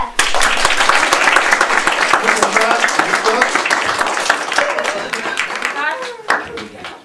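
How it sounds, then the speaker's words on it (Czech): An audience claps and applauds warmly for a Viennese expert professor, a dense patter of many hands that carries on steadily before thinning out, with voices mixed in beneath it. "A ten všichni zatleskejte!"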